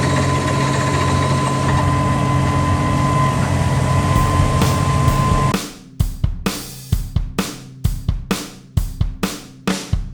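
A well drilling rig runs at about 400 feet deep, a steady loud engine drone for several seconds that cuts away into a series of sharp, repeated percussive knocks and clanks at a rough irregular rhythm.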